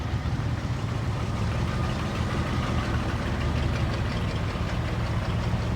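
An International pickup truck engine idles steadily nearby with a low, even rumble and a slight knocking pulse throughout, with no talk.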